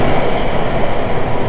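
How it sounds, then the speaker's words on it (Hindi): A Bangkok Blue Line underground metro train runs through a tunnel, a loud, steady roar and rumble of wheels and cabin noise with no voices. "आई थिंक अंडरग्राउंड मेट्रो चल रही है।"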